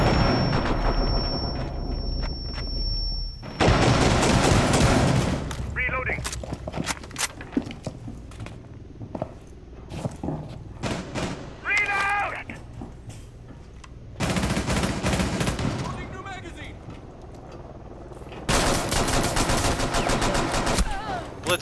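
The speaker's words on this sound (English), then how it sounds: "I'm getting shot from west" Gunfire in Rainbow Six Siege, loud close bursts of automatic fire in several long stretches, broken by quieter gaps with footsteps, clatter and brief voices.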